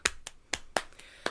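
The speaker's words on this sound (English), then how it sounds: "Shall we try the clapping first?" Hand claps set a song's tempo, six crisp, evenly spaced claps about a quarter second apart, close and fairly quiet, with no talk.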